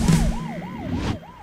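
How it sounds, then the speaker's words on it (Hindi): An ambulance siren wails in a steady up-and-down cycle of about five sweeps in a Hindi film street scene, loud and fairly close, with a burst of noise at the start and no talk. "ये तो एम्बुलेंस है।"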